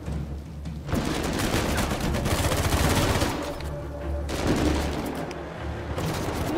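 Dense bursts of rapid automatic gunfire in the video game Uncharted 4, loud and close, coming in long volleys with short lulls between them.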